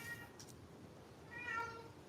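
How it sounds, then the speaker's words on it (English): Butters, a pet cat, gives a short, faint meow nearby against a quiet indoor background, with a softer earlier chirp. "What are you meowing for, Butters?"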